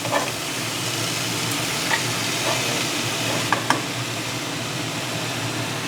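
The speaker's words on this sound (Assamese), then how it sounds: "এতিয়া ইয়াত মই এই শাকখিনি পালেং শাকখিনি ইয়াত দি দিম এইখিনি এতিয়া ভালদৰে লৰাই দিব লাগিব" Spinach frying in a pan while being stirred, giving a steady, loud, dense sizzle throughout, with a few faint knocks of the utensil against the pan.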